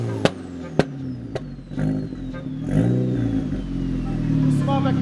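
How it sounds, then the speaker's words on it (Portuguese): A Cupra R car engine idles with a few sharp pops and crackles, then revs and burbles nearby, fairly loud and rising, with voices talking over it at times. "Vais ouvir primeiro só o barulhinho dos carros."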